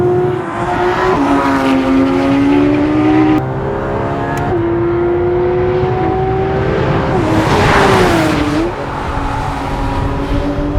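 A Porsche 911 GT3 RS engine roars continuously at high revs on a race track, pitch rising and dropping through gear changes and braking, loud and close throughout.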